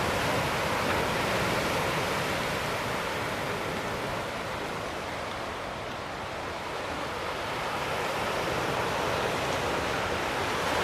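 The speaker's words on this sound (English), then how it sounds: "So, it's the sound of the sea I'm enjoying." Sea waves wash ashore at night on Lanzarote at Playa Blanca, a continuous broad surf roar that swells and eases slightly, steady and fairly loud with no voices.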